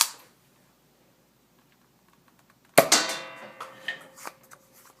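A Nerf Firestrike blaster fires a foam dart in stock form: after near silence comes one sharp, close snap, followed by a short rattling decay and a few softer clicks.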